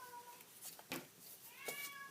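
A cat meows insistently, wanting to be let out into the garage, giving a few close, drawn-out cries spaced over a couple of seconds in a quiet room.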